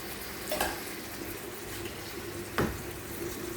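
Cumin seeds tempering in hot oil in a Bengali home kitchen, a steady soft sizzle with two brief louder clatters of stirring, no talk.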